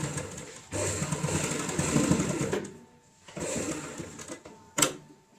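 A sewing machine stitches a zip onto a homemade tote bag, running in two long bursts of fast rhythmic whirring separated by a short pause, then a brief final spurt.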